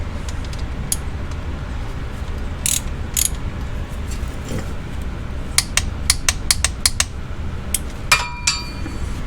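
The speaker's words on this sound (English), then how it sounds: "let's torque this plug up. Fill plug to 26 foot-pounds." A wrench ratchets while torquing the transmission fill plug on an SRT Grand Cherokee to 26 foot-pounds. A quick run of sharp, close metallic clicks comes late, over a low steady background rumble.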